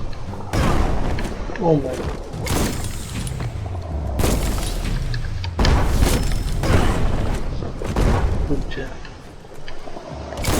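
Bomb lobber explosions in the video game Biomutant come as a run of loud, deep booms and thuds, several blasts spaced across the stretch, while someone speaks briefly over them.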